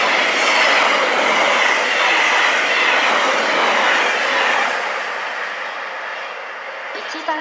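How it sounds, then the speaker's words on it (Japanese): A freight-line train rushes past close by through Heiwa Station in Sapporo on the Chitose Line, with a loud, steady roar of wheels on rails, fading slightly toward the end. "1番線を列車が通過いたします。"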